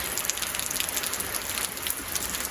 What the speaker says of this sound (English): Just a nasty rainy day today